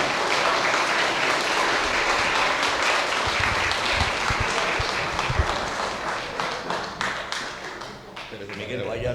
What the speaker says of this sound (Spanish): Un aplauso al Señor, mis hermanos.